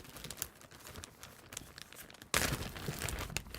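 A plastic bag package is handled and crinkled close up, with soft intermittent rustles that turn into a louder, sustained crumpling burst partway through.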